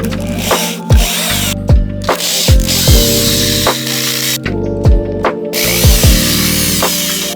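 Power drill backing screws out of a busted wooden chair, loud close motor whirs in repeated short bursts with ratcheting clutch clicks and pitch sweeps as each screw comes loose, no talking.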